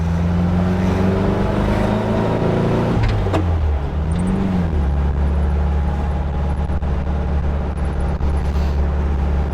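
A 1973 VW Thing with a freshly fixed front end drives down the road, its engine note rising and falling through gear changes, steady and fairly loud throughout with road rumble underneath.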